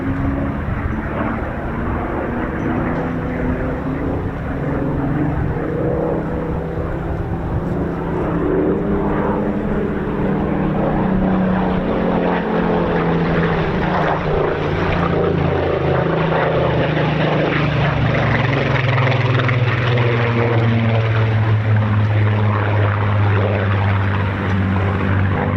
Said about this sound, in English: Evolution of all the marks of the Spitfires, the photo reconnaissance to the Griffin powered Mark 19.